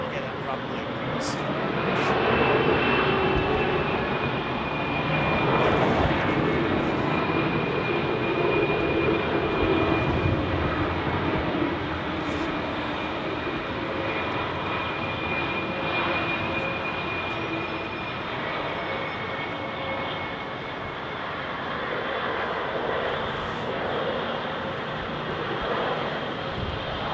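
Aircraft engines at London Heathrow Airport rumble continuously with a broad, roaring wash of noise, windy and sustained, as planes arrive and depart nearby.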